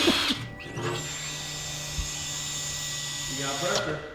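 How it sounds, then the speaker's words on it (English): Electric fuel pump being bench-tested on a mid-engine Mitsubishi Eclipse build, a steady high whine holding for about three seconds between brief clatter at start and end, with voices heard around it. "let's plug in the fuel pump and test it"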